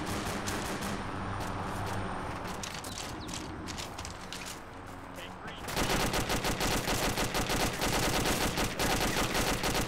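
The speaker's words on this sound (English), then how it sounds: "we're under fire from the north here, guys" Gunfire in the military shooter Arma 2: rapid rifle and machine-gun bursts crackle at a distance at first, then a loud, close, steady stream of automatic fire takes over for the last few seconds.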